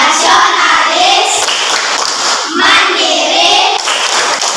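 Children in a primary school classroom chant together and clap in rhythm with a teacher, voices dense and continuous with claps blended in beneath the group chanting.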